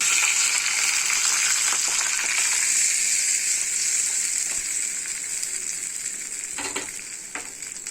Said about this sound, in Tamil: இப்போ இதை கடுகு உளுத்தம் பருப்பு போட்டு தாளிச்சு கொட்டிடலாம்.